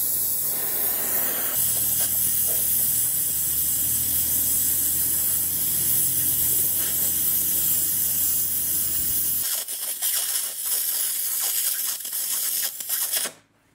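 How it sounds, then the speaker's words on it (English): A gas torch heats rusted strut bolts on a 2007 Chevy Equinox, giving a steady, loud broadband roaring hiss that holds for about nine seconds, then thins to a lighter hiss before cutting off near the end. "I'm going to try heating the bolts some. I do have torches,"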